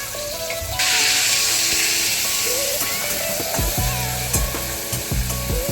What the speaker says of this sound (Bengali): এরপর আদা রসুনের পেস্টটা দিয়ে দিলাম।